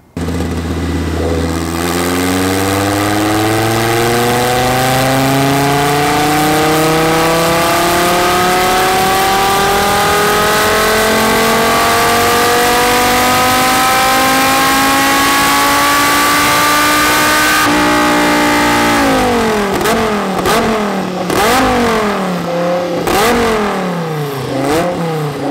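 A Porsche 944 with a 5-cylinder 07K engine swap revs hard and loud on a dyno in one long climbing pull, then blips up and down in quick bursts as it winds down.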